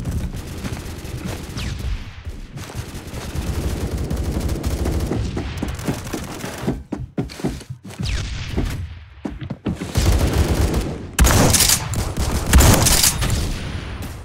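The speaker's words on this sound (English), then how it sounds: "We can go around with an OP shotgun and possibly get quite a lot of kills out of it." Shotgun fire in the first-person shooter game Phantom Forces comes as repeated loud blasts mixed with dense, chaotic battle gunfire, rising to heavy bursts toward the end.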